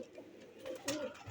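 Sialkoti black-faced pigeons give soft, close coos, a few low rolling calls rising toward the end with no speech over them.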